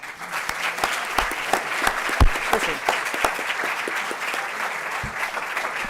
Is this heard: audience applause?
yes